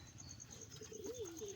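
Pet pigeons in a loft give a faint, low, wavering coo under steady background hum, with a soft chirp-like tone in the mix.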